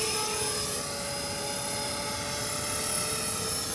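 An HK450 radio-controlled helicopter fitted with an EC135 fuselage hovers nearby, its rotor and motor producing a steady, loud whine with constant tonal hums and no pauses.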